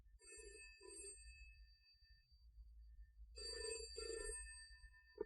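A telephone bell ringing in paired bursts, two short rings, a pause, then two more, fairly quiet over a low background hum.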